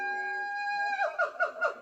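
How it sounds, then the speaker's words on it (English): Stock monkey sound effect made from a siamang gibbon call pitched down: a long steady hooting tone that breaks into four rhythmic swooping whoops, clear and alone. "It's actually a gibbon called a siamang,"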